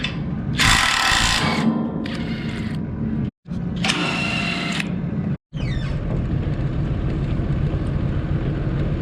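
Power tools whir and rattle in loud bursts while nuts and bolts come off a farm bale rack, with short pauses between runs and a steady mechanical drone underneath.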